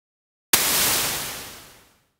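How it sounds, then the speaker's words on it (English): After a moment of silence, a sudden hiss of filtered white noise bursts in and smoothly fades away over about a second and a half. "we've just created our own impulse response using white noise and filters"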